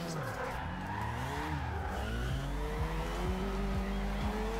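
Mazda RX7 in Forza Horizon 2 drifting with wheels spinning, engine droning steadily with shifting pitch over continuous tire squeal, loud and close throughout.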